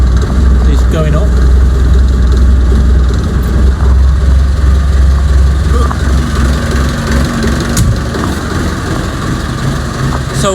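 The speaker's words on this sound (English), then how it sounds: "Actually, just switch the tractor back off." A tractor engine idles in a low, steady rumble while a mower is raised, loud and close, with a person talking over it.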